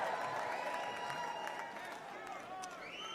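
Large crowd at the Republican National Convention applauding and cheering loudly and steadily, a dense sustained wash of clapping that eases slightly toward the end.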